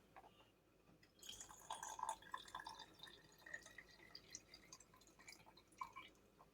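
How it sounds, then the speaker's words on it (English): Mushroom broth is poured into a canning jar filled with mushrooms and onions, making faint, close liquid trickling and glassy splashing sounds that continue for several seconds. "we're going to finish filling it up with the broth"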